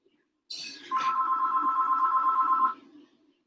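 A telephone rings once with a steady, sustained electronic tone lasting about two seconds, fairly close and clear, with no talking over it.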